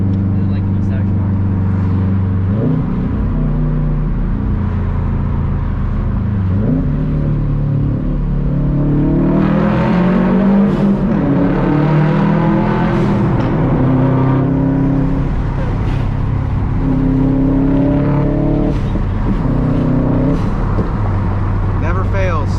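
2018 Subaru STI with a loud aftermarket exhaust heard from inside while driving, a deep rumbling drone rising and falling with revs, with people talking over it throughout.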